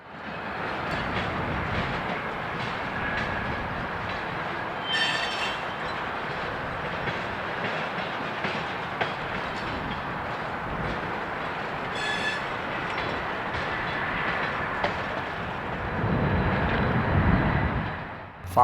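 A CSX rebuilt GP40-3 locomotive leads a local train past a rail yard with a continuous, fairly loud rumble of engine and wheels. Short high metallic squeals cut through at a few moments, and the roar swells toward the end.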